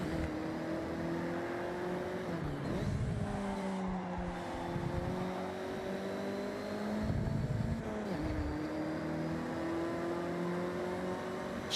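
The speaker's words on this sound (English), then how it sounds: "I think I could hear that turbo." A car engine in Forza Horizon hums steadily with a rising whine, revving through several surges and shifts, close and continuous with no voices over it.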